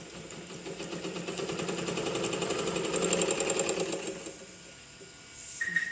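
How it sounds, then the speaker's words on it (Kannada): A domestic sewing machine runs steadily after its belt is refitted, its fast even stitching rattle building smoothly and then easing off near the end, close and fairly quiet with no talking. "ಈಗ ಒಂದು ಸ್ವಲ್ಪ ನಾವು ಸ್ಟಿಚ್ ಮಾಡಿ ನೋಡೋಣ."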